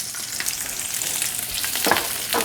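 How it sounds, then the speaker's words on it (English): Peppers sizzling in extra virgin olive oil with garlic over medium heat, a close, steady crackle with a few louder spits and a stir near the end, no voices. "So we're just going to get these tossed up in that beautiful extra virgin olive oil with your garlic, and cook these down a little bit"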